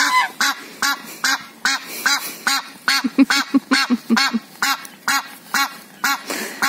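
Ducks quack close by in a steady run of loud, nasal calls, roughly two per second, heard alone outdoors.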